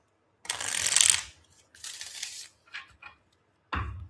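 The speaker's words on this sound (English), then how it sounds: "Okay, one more shuffle." Tarot cards are shuffled by hand in several brisk riffling bursts separated by short pauses, close and clear, with a final quick flutter at the end.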